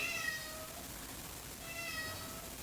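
A house cat gives two faint meows about a second and a half apart in an otherwise quiet room.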